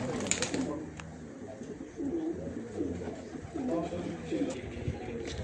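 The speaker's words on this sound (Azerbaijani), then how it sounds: "Hər yeri quşdur" Pigeons coo in soft repeated low phrases nearby, with other bird calls and a person speaking over them outdoors.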